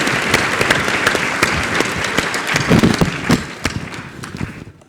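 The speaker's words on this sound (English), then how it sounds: "Let's give them all a round of applause." A conference audience at a community discussion gives a steady round of clapping, dense and fairly close, holding for several seconds before thinning out at the end.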